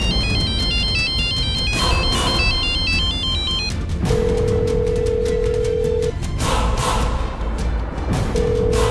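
A phone ringtone plays loudly, a bright electronic melody repeating in bursts with short tonal beeps between, continuous with no talking.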